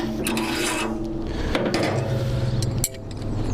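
A metal carving stop slides and scrapes along the spit pole of an Elite spit roaster, giving a continuous rasping, rubbing mechanical sound with a few sharp clicks.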